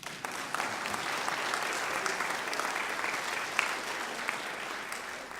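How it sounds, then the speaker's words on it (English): Sustained audience applause fills the hall at a steady, dense level throughout, a full crowd clapping together with no pause. "That's an applause line."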